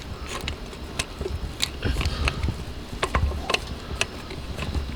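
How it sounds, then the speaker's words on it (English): A ratchet clicks as it drives in the top bolt of an idle control valve on a Lincoln Town Car, with scattered sharp ticks and brief clicking runs over a quiet workshop background. "Let me get this top bolt in first."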